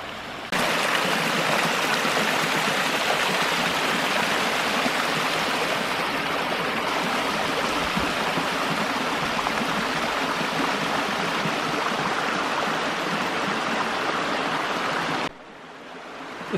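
Rushing stream and waterfall at Dead Horse Creek Falls near Descanso, California, make a steady, close, broadband roar that runs unbroken with no voices and drops off abruptly near the end.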